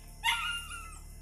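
A single dog yelps or barks once, a sharp close cry followed by a trailing whine, outdoors at night in rural Zamboanga, Philippines, with no talk over it.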